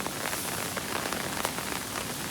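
Steady heavy rain pours down during a storm, a dense, continuous hiss of drops hitting surfaces close by, with no pauses.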